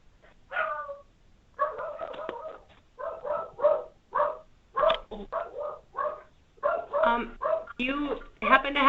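A dog yips and barks in quick, repeated bursts over a conference call phone line, loud and close, with the barks coming steadily through the connection.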